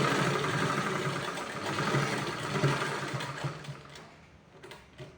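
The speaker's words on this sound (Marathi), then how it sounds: "आपल्याला या पद्धतीने शिलाई मारत जायचं आहे" A sewing machine runs steadily, stitching cloth for a baby bib, its continuous mechanical whir close and fairly loud before easing off toward the end.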